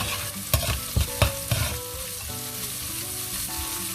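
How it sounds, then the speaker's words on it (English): Onions and garlic fry in a pan while a spoon stirs them, several close scraping strokes in quick succession over a steady sizzle that continues alone afterward. "Just keep stirring the mix because we don't want our garlic or onion to get stuck to the bottom"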